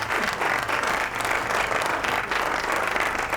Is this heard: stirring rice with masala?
no